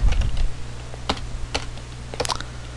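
Keys clatter on a computer keyboard while a function is entered in the Excel 2007 Visual Basic editor: a dense burst of strokes at first, then a few sparse clicks over a low steady hum.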